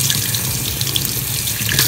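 Very hot water, used for microwaving sponges, pours out into a sink in a loud, steady close splash that continues unbroken without any talking.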